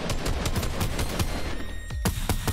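Rapid gunfire in Fortnite, a dense burst of repeated sharp shots in quick succession, loud and close, with a few heavier reports near the end and no talk.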